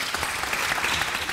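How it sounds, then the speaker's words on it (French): A brief, dense burst of audience applause greeting a visiting professor at a French panel on medical research, steady clapping filling just over a second with no voices. "On peut peut-être l'applaudir, ça va le réchauffer"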